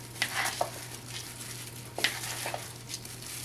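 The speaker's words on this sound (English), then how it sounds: "I'm just going to give this a nice toss, get all that cheese mixed in with everything." Pasta is tossed with freshly grated Pecorino Romano in a Tuscan-style dish, giving soft scraping and stirring sounds with a few light clinks. The sound is quiet and close over a low steady hum, with no voices.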